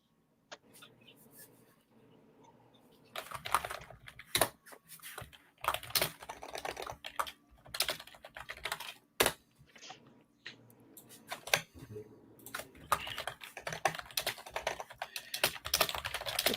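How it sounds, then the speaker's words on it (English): Rapid clacking of computer keyboard typing in irregular bursts, close and fairly loud, with brief pauses between flurries and no talking. "The typing was so loud."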